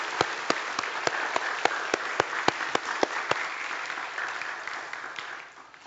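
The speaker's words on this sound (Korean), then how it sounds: "우리 부활하시니까 영광의 박수 한번 올려주시겠습니다" A church congregation on Easter Sunday claps in a slow, regular unison rhythm, about a dozen sharp beats over a soft wash of scattered clapping, then fading away.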